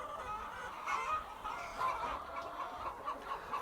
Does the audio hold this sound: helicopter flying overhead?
no